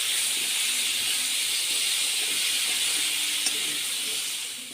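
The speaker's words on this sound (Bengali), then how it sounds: "এবার ওই তেলে পটলগুলো ভেজে নেব।" Pointed gourd fries in hot oil after potatoes, giving a steady, bright sizzling hiss that holds for the whole stretch. It is close and even, with one tiny tick near the end and no voices.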